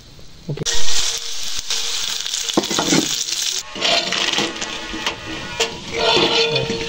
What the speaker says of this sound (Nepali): अब खुर्सानी भुट्छु म